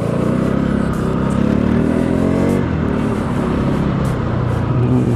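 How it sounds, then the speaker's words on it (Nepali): A Bajaj Pulsar NS 200 ABS FI 2020 motorcycle engine drones steadily while riding, a loud continuous low rumble with slight fluctuations and wind noise. "इन्जिन पनि हल्का रिफाइन जस्तो लाग्छ साउन्ड पनि हल्का त्यो हुन्छ"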